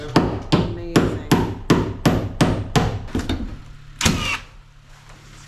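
Hammer blows ring out at a snowy off-grid cabin, about ten sharp, evenly spaced strikes in a steady rhythm, fairly loud and close, followed by a heavier knock and quieter ambience.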